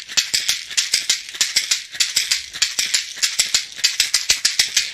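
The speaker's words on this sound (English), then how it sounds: "they are African basket shakers and they have this kind of hard gourd down the bottom" An African basket shaker with a hard gourd base played in a steady, brisk rhythm, each crisp rattling stroke landing with a hard, accented snap, close and alone.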